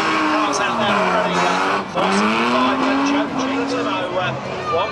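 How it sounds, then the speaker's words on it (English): Unlimited banger race cars, big powerful stock cars such as a Daimler DS 420, roar around Skegness Raceway, loud continuous engines rising and falling with tyre squeal, under a commentator's talk. "it's the Unlimited Bangers, the big powerful cars, and some awesome cars out there already"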